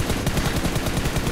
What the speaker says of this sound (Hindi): हां लगा लगा गोली लगा।